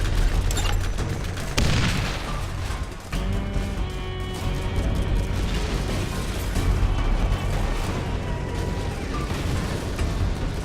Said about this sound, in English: A remarkably quiet explosion.